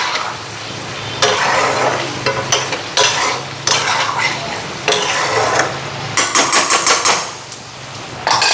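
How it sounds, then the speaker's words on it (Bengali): Spice paste frying in a pan with potato and pointed gourd, a steady close sizzle broken by repeated loud stirring and scraping of a utensil against the pot, with no talking. "আস্তে আস্তে এটা হইতে থাক মশলাটাও ভাজা হইব আলু পটলটাও সিদ্ধ হইতে থাকবো"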